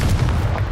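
A Confringo fire spell blasts in Hogwarts Legacy: a single loud, booming burst with a heavy low rumble that fills the whole short moment.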